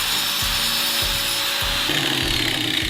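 A sander grinds the tip of a metal spatula-shaped blade to shape it, a steady abrasive whine with several short scraping passes repeating about every half second, close and loud with no talk.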